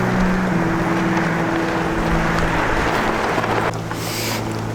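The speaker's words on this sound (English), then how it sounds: "sometimes you turn down a street and it's like a freaking wind tunnel" Cold wind rushing down a city street, loud continuous buffeting and rumbling noise against the microphone, easing slightly near the end, with no voice.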